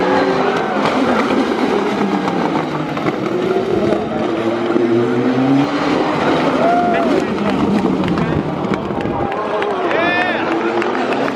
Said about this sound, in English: They get such a huge draft down this straightaway that they just keep slipstreaming and trying to outbrake each other